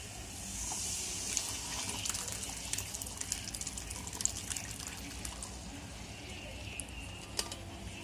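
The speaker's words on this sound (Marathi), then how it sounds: "आता आपण याच्यामध्ये हे वटाणे घालून घेऊयात" Green peas are tipped into hot spiced oil in a pan while cooking a Marathi peas usal. A steady, moderate sizzling hiss carries small scattered pops and crackles, with no talking.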